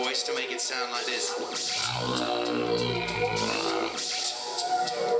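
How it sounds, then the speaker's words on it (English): Vocal bass with an octave effect on the voice in a live looping set: a deep, buzzy low tone rises in the middle over layered beatboxed rhythm and sung parts, close and loud, then fades back into the loop. "which is an octave on my voice to make it sound like this."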